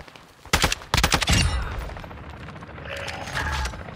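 AI enemies shooting in the video game DMZ: several sharp, loud bursts of gunfire close together early on, then a lighter scatter of distant shots and rumble.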